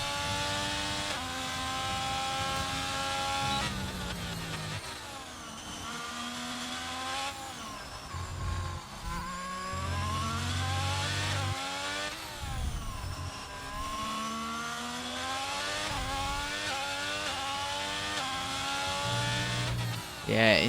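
Alfa Romeo racing car in a sim racing game at a Mexico round, engine revving loudly and continuously with rising and falling pitch through gear changes, brief tire squeal and a commentator talking over it.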